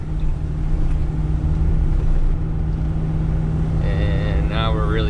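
A truck engine pulls hard in fifth gear under heavy load, a steady loud drone with a strong low hum throughout, and a voice speaking briefly near the end.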